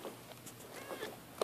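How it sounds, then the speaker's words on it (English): A cat meowing indoors in a bedroom, a few soft, faint mews spread across a brief quiet moment. "A cat right there."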